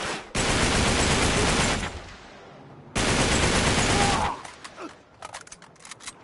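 Two long, loud bursts of automatic gunfire from a gun in Uncharted 3: Drake's Deception, separated by a short pause, followed by scattered quieter clicks and clatter that suggest reloading.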